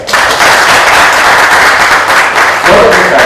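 Sustained audience applause fills a hall at a poetry reading and book launch at the Press Club of India, dense steady clapping from many hands at close range, swelling slightly near the end with no talk over it.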